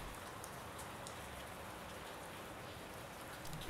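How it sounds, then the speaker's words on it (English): Rain falls steadily in the horror video game Amygdala: Prelude, a faint, even hiss of drops with no other sounds over it. "It's raining."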